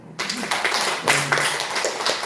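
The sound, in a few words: applause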